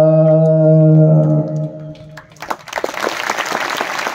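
An audience at a Marathi poetry recitation bursts into loud, dense applause that fills the second half of the clip, following a sustained voiced tone.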